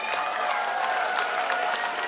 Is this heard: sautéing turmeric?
no